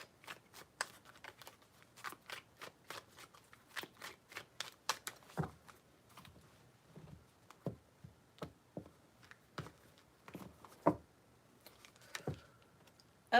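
Tarot cards being shuffled by hand, a series of crisp close riffles and slaps in irregular bursts, fairly quiet, with no talk.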